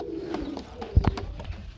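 Low, soft coos from pigeons, including a male, close by, with a few dull thumps and light clattering around them.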